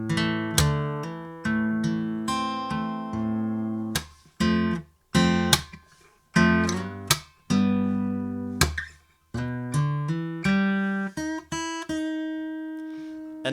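A fingerstyle guitar plays the C section of the first verse of a song, with plucked bass notes and chords in a syncopated rhythm. Several short pauses break the phrases, and the last note rings out alone.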